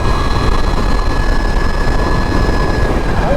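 A powerful dirt bike fitted with street wheels roars loudly and steadily as it accelerates, a dense continuous engine drone filling the whole stretch with no voices.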